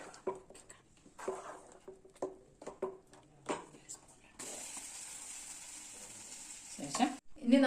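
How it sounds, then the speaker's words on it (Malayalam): Tapioca being stirred and mixed with an onion, garlic and mustard seed tempering in a pan, with soft scraping strokes at first, then a continuous bright sizzle and a few louder clatters at the close. "ശേഷം ഇതൊന്ന് മിക്സ് ചെയ്യുക."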